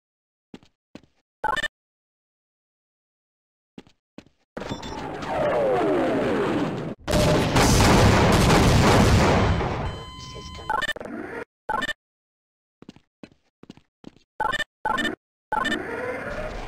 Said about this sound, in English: we are pulling out and commencing airstrikes